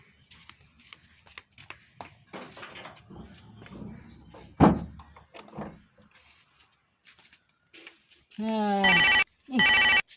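A telephone rings in two loud electronic bursts near the end, after a stretch of scattered bumps, a door-like thud and someone talking in a rural home.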